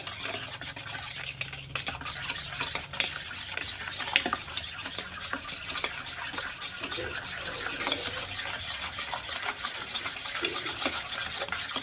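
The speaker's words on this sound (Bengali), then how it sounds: "চিনি আর ডিমটা ভালো করে মিশিয়ে নিয়েছি" Egg and powdered sugar being whisked together in a bowl, a continuous fast scraping and rubbing with a quick regular beat, fairly quiet and close, with no voices.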